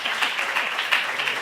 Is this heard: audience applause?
yes